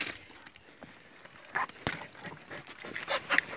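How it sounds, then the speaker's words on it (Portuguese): A hunting dog barks during a hunt in rural Brazil, giving a few sharp, separate barks in quick bursts against quiet outdoor background noise. "Aqui é o cachorro do parceiro."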